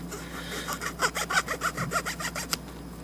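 A hand file scrapes excess plastic off a repaired piece after plastic welding, a run of about ten quick rasping strokes in steady rhythm, close and fairly loud, ending with a sharp tap.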